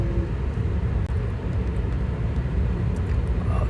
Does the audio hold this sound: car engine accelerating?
yes